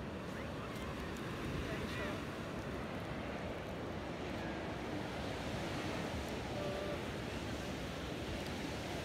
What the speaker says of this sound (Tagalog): first time ngayon ni Lijan dito sa dagat.